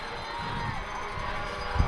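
Away-side crowd of Vulcan football fans cheering from shaking bleachers at Mahalik Thompson Stadium, a steady roar of many voices with a brief thump near the end.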